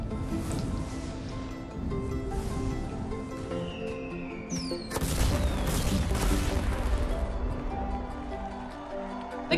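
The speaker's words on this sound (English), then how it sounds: "Look at all those fireworks." Video game fireworks in Skylanders Trap Team, a string of pops, crackles and booms with whistling rising streaks, loud and busy, swelling in a dense cluster midway before easing off.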